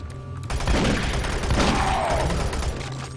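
Gunfire in the first-person shooter DOOM 3, a dense, continuous roar of rapid shots that starts abruptly and stays loud for about three seconds, with no talk over it.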